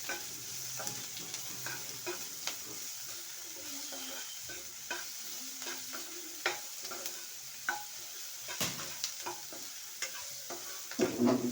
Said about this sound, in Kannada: ಶುಂಠಿ ಬೆಳ್ಳುಳ್ಳಿ ಪೇಸ್ಟ್ ಹಾಕ್ತಾ ಇದ್ದೀನಿ ಇದನ್ನು ಸ್ವಲ್ಪ ಫ್ರೈ ಮಾಡ್ಕೊಳ್ಳಿ ಹಸಿ ವಾಸನೆ ಹೋಗೋವರೆಗೂ ಸ್ವಲ್ಪ ಫ್ರೈ ಮಾಡ್ಕೊಳ್ಳಿ